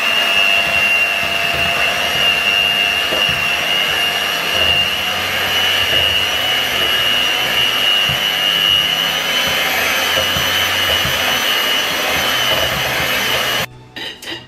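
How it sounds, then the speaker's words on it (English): A brand new electric mixer runs steadily while softening mascarpone in a bowl, producing a loud, continuous whirring motor drone with a high whine that holds unchanged for several seconds before cutting off abruptly near the end. "I'm going to soften it with my brand new mixer."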